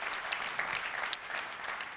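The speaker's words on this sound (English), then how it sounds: "Round of applause to you guys." Faint, steady audience applause at a cloud technology summit keynote in Tokyo, dense clapping from a large hall heard at a distance.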